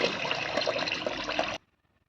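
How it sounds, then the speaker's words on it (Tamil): Water is poured over groundnut cake to soak it for an EM-1 enriched liquid fertilizer solution. A steady, splashing pour lasts about a second and a half, then stops abruptly into silence. "கடலை புண்ணாக்கு நல்லா முழுகிற அளவுக்கு தண்ணி ஊற்றணும்."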